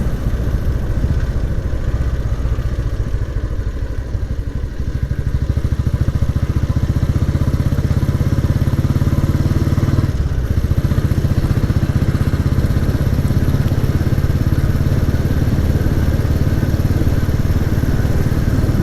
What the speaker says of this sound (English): There's nothing like being out in the countryside on a motorbike.